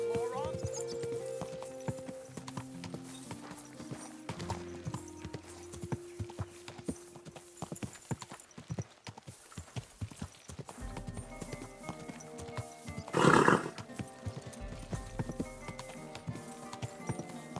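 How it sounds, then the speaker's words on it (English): Hooves clip-clop at a slow walk from a horse being ridden in a video game, with a brief loud burst partway through and a voice talking over the steady hoofbeats. "Is this your first time riding a horse,"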